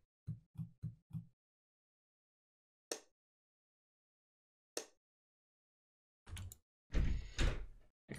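A door creaks and thuds in a horror video game, with a quick series of soft knocks, two sharp isolated clacks and then a louder heavy slam and rumble, set against near silence.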